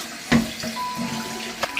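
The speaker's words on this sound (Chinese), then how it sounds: "抓捏之后再用清水多冲洗2遍" Pork ribs rinsed clean under running tap water in a sink, a steady wash of water broken by a few sharp splashes and knocks, close and moderately loud with no talking.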